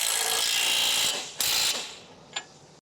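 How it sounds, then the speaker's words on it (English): A 30mm long socket on a ratchet tightens the lower shock absorber mounting bolt on a Ford strut assembly, making a close, continuous ratcheting whir with a couple of sharper clicks before it stops. "Then use the 30mm long socket, tighten the lower shock absorber mounting bolt."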